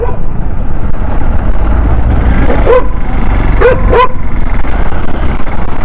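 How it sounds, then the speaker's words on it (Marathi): Dogs bark while chasing a moving vehicle on a morning ride. A few short barks, mostly bunched together, cut through a loud, steady rumble of wind and road noise. "हे कुत्रे गाडीच्या मागे का लागतात"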